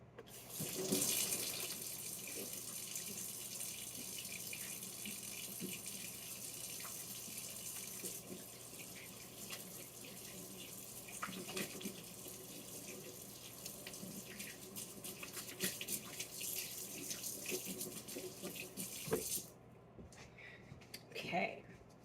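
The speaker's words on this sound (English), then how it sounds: "I'm going to wash my hands." Tap water runs steadily into a kitchen sink while someone washes their hands after handling jalapenos, a continuous close splashing hiss that carries on for about twenty seconds before cutting off near the end.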